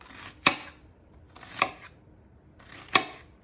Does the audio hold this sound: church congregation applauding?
no